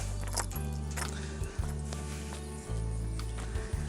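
Horse hooves clop on hard ground at a slow walk, with a low steady hum running underneath.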